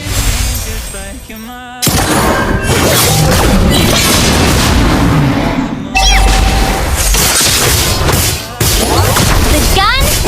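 A turret destroyed in a mobile battle arena game: loud booming impacts and crashing effects layered over dense game music and announcer-style voices, continuous and busy throughout.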